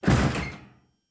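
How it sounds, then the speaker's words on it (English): A door is thrown open in a visual novel video game: one sharp, close thud that rings briefly and fades out within under a second, with no other sound. "I throw open the door and run to her."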